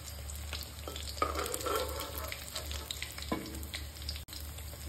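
Rohu fish pieces crisply frying in hot oil for a Bihari-style fish fry, a steady close sizzle with occasional spatters and stirring clinks, no voices.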